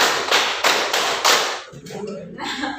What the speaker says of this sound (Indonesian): kita ritmenya agak dipercepat. Tepuk 3, tepuk 2, tepuk 1, tepuk 5